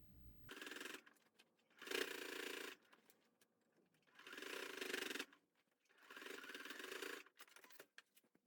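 A sewing machine stitches the flap of a scrap-fabric oven mitt closed in four whirring runs, each lasting about a second or so and separated by short pauses, close and fairly quiet.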